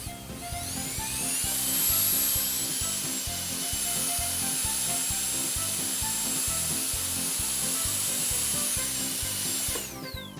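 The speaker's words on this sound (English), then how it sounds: "First, let's use the drill." A toy dentist drill whirs steadily through a Play-Doh pretend-play dental session, a buzzy, pulsing motor running continuously for about ten seconds at close range before cutting off, with no talking.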